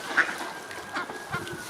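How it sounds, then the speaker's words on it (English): Swans gathered at a feeding spot give soft, scattered honking calls, faint and somewhat distant over a low outdoor background, with a couple of slightly louder calls. "The swan grabs everything it sees in front of it, takes it in its beak, and pulls it towards itself."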